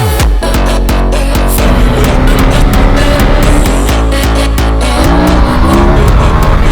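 KTM motorcycle on a test ride, likely a 1390 Evo, 990 RC or 390 X, its exhaust popping on throttle release amid a loud, continuous engine roar with bursts of crackle and revving.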